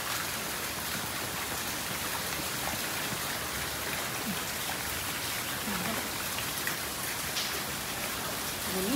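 Steady rain pours down on a home garden in Chennai during Cyclone Fengal, a dense, even hiss of drops spattering surfaces that runs unbroken from start to finish with no voices over it.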